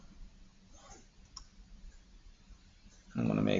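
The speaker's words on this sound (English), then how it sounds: "click on this point, click on the line to get the gap between them" A computer mouse gives a few faint, sparse clicks at a desk under quiet talk, followed by a sudden louder burst at the end.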